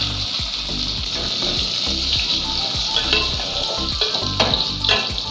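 Chopped tomato frying in an oiled pan for achari chicken sizzles steadily, a dense continuous hiss with occasional crackles and soft stirring scrapes, close and fairly loud with no talk.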